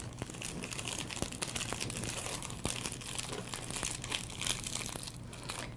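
Gift-wrapping paper being folded back and forth like a fan, with close, continuous crinkling and rustling broken by small sharp crackles as the creases are pressed.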